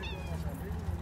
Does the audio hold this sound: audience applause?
no